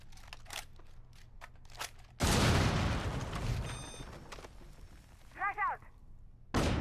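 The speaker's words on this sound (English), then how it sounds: "Throwing frag grenade." A frag grenade goes off in the Rainbow Six Mobile shooter as a sudden loud blast with a long rumbling decay, coming after scattered clicks and followed by a brief voice line.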